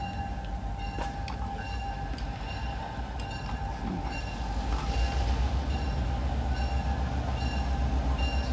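A GP9 diesel locomotive of the Black River and Western railroad rumbles steadily nearby, a low continuous engine drone with faint tonal hum that grows slightly louder partway through, with no talking.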